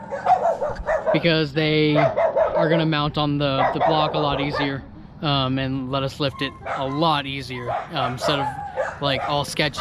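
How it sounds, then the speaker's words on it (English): A dog barks and yips again and again in a home garage during an engine install, the sharp yelps mixed in with someone talking close by. "Sorry about the dog noises and everything"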